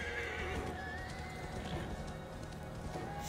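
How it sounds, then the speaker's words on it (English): Horse in Assassin's Creed Valhalla whinnies with hooves clip-clopping, a moderately loud game sound effect over a steady background bed of ambient noise. "I'm always going to forget to use the horse on"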